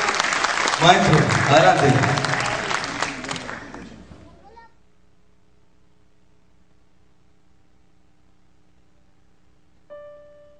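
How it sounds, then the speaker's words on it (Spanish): An audience applauds a 14-year-old pianist at a live concert, with loud sustained clapping that fades out over about four seconds and leads into silence. Someone speaks briefly over the clapping. "Un aplauso, por favor."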